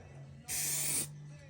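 A single steady hiss of spray paint on an alloy wheel lasts about half a second, loud and close, then cuts off sharply into quiet room tone.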